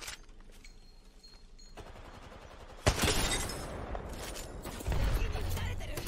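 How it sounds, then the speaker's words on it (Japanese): Enemy gunfire in Apex Legends bursts in rapid automatic volleys that grow louder midway, mixed with game sounds and a voice speaking over it. "敵に撃たれてる。"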